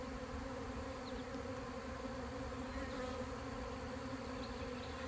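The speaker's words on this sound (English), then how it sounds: "I don't know if you can see all the bees flying around on the video." Honey bees swarming, an unbroken droning buzz of countless wings at an even level throughout, nearby and thick, with no speech.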